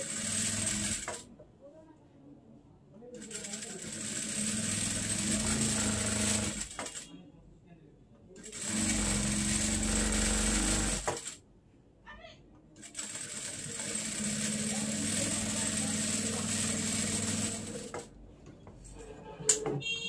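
A sewing machine stitches cloth for girls' pants in several sustained whirring runs separated by short pauses, loud and close, with a single sharp click near the end.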